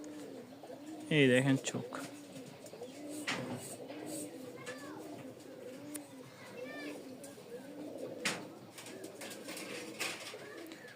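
Satin and banja pigeons coo in repeated soft, low rounded calls at close range, with a brief louder burst of handling or flapping early on and someone talking over them.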